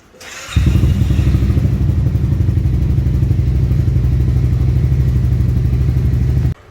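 A Honda ADV350 scooter engine starts up and settles into a loud, deep, steady idle rumble through a throaty Yoshimura aftermarket exhaust, close by, with no talking.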